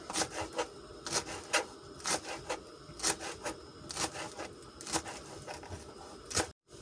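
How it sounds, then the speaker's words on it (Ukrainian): A kitchen knife chops onion on a cutting board for a salad, a series of crisp, irregularly spaced cutting knocks and scrapes, close and alone without talk. "Так, так ріжемо цибульку тепер."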